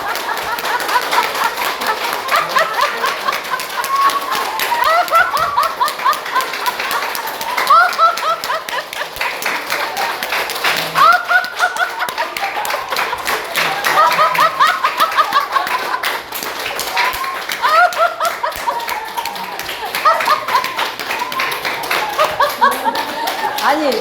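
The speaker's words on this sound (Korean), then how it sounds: "자, 박수 한번 쳐봐요." A room of new church members claps vigorously and continuously for a long stretch while facing one another, a dense rapid patter of many hands mixed with laughter, chatter and a leader's voice throughout.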